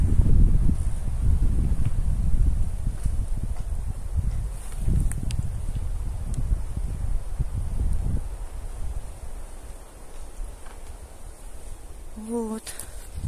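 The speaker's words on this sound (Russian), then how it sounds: "Ветер, видите, какой сильный." Strong wind roars and buffets through forest trees, including pines, in uneven gusts, blustering loudly at first and easing later, with brief rustling.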